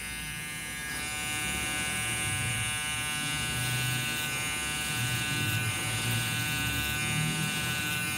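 An electric hair clipper fitted with a number 1 guard, closed, cuts hair during a step-by-step American-style haircut, giving a steady close buzz that runs throughout with no talk.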